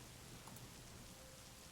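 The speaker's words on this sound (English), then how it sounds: "Let's turn on some rain" Steady rain ambience with sideways-blowing rain, a dense, even hiss of falling drops with no breaks, fairly faint and unchanging over its short length.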